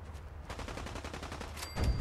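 Rapid bursts of automatic gunfire in the Fallout 4 video game crackle steadily for the full two seconds, close and loud, with a heavier boom near the end.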